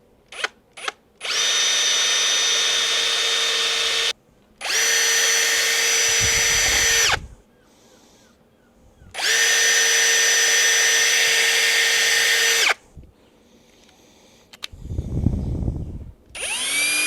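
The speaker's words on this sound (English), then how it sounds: "And drill your pilot holes." A power drill whirs in several bursts of a few seconds each, drilling pilot holes for a switch panel in a Mercedes Sprinter van, separated by short pauses and clicks, close and loud.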